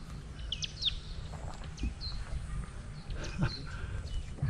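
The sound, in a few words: birds chirping in Kenya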